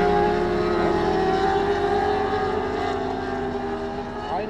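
ECO-Mobil training vehicle driving under heavy side forces, a steady, loud engine drone with tonal whine that holds throughout and eases slightly toward the end.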